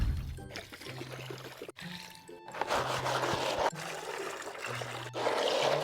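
Water poured into a bowl of salted ice, a faint trickling and splashing in several short bursts with brief pauses between, heard close up.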